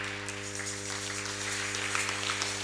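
Church congregation applauding, a dense, even patter of many hands clapping across the hall, steady and moderately loud, over a sustained tonal hum in the background.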